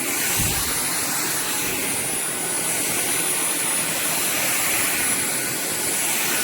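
A steady, even whooshing motor hum from a Dyson V7 cordless stick vacuum cleaner runs continuously with no breaks, light in tone, nearby.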